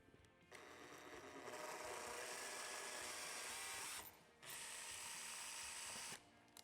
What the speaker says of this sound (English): we'll start by drilling through with a smaller drill bit first